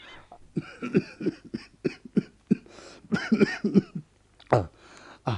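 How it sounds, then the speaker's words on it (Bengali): A person in a Bengali radio drama coughing in a series of short, harsh bursts with brief pauses between them, close and fairly loud, with no other talk heard. "তার মধ্যে এই কাশি।"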